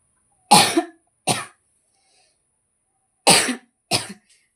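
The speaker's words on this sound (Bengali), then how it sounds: "কাশিটা আমার হয়েই যাচ্ছে" Four sharp coughs close by, in two pairs separated by a pause of silence, the first of each pair louder.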